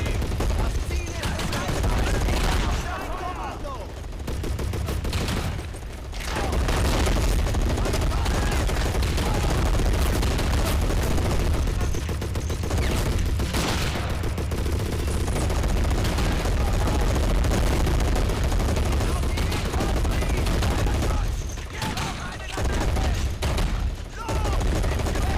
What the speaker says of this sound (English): Those MGs are still going.